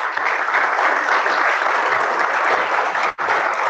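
An audience at a Spanish-language technical conference on urban-industrial fires applauds loudly and steadily, a dense clapping that ends abruptly with no talk over it.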